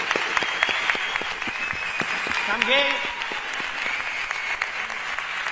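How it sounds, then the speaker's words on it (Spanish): Sustained applause from a carnival audience at a proclamation event in Córdoba, a dense patter of clapping filling the room while a voice speaks over it. "El aplauso más fuerte de la noche para ella"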